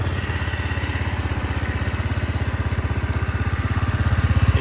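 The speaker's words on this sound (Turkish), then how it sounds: "Egzoz sesi." A Kanuni Resa 125 scooter idles with its exhaust close by, a steady, even throbbing pulse that keeps the same rhythm throughout and swells slightly at the end.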